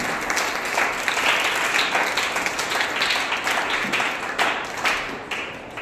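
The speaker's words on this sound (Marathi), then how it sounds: "त्यांच्यासाठी जोरदार टाळ्या" Loud, dense applause from an audience at a Green Foundation Women's Day event, honouring the founders of a tree-planting initiative; steady clapping fills the whole stretch with a slight fade near the end.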